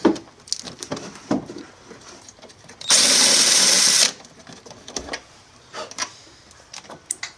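A cordless power tool whirs loudly for about a second while undoing a bolt on a Vectrix electric motorcycle being taken apart, with scattered clicks and handling knocks before and after.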